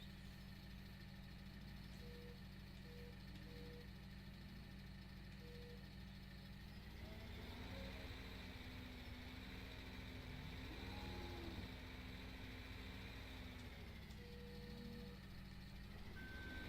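A farm vehicle in Landwirtschafts-Simulator 17 sounds steady reversing beeps over a constant engine drone, the engine rising louder partway through as it works.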